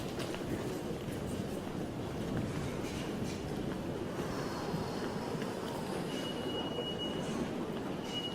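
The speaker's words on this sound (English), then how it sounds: "Why don't I take the subway?" A subway train rumbles steadily, its rolling wheel noise continuous and fairly loud, with a thin metallic wheel squeal rising briefly near the end.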